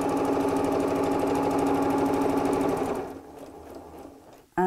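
Sewing machine stitching a quarter-inch seam on a tea cosy project, a fast steady whirring hum for about three seconds, then stopping into quiet before a brief thump at the end.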